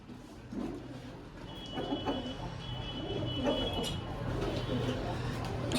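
Pigeons at a bird shop give soft, repeated low coos close by, partly under someone talking.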